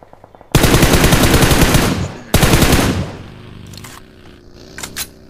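Two loud, fast automatic bursts of gunfire in a BGMI competitive match, close and rattling, followed by quieter engine hum and a few faint clicks.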